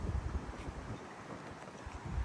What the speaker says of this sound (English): It's very windy out here, so sorry if the sound's bad.